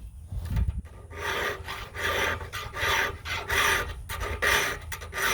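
A file rasps across the teeth of a sawmill blade during sharpening, a run of rhythmic back-and-forth strokes roughly every half second, close and fairly loud with no talking.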